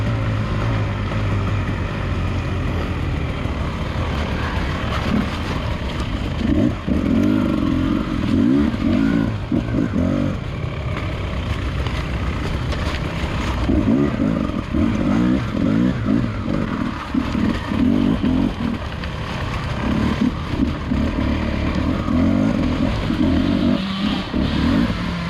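A Beta 300 RR two-stroke dirt bike races along a muddy hare scramble trail, its engine revving hard and steadily, close and loud, with the pitch rising and falling through the ride.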